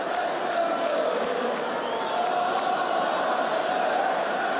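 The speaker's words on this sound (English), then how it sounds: "Steve Hodge, to thunderous acclaim for the crowd here, has made it Tottenham 2" Steady roar of a football crowd at White Hart Lane during a Tottenham versus Aston Villa league match, a dense, continuous wash of distant cheering with no breaks.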